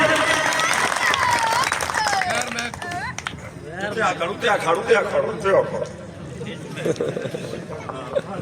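An audience at a wedding gathering claps for performers, with a patter of applause rising midway and mixing with loud crowd chatter and a voice.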